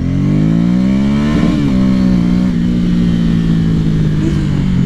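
Motorcycle launching hard off the line with its rear tire spinning, a loud close engine roar that rises in pitch, wavers briefly, then holds a high steady drone.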